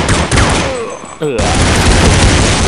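Rapid gunfire rattles in Counter-Strike 1.6, loud close bursts of shots with a short gap, and a voice talks over part of it.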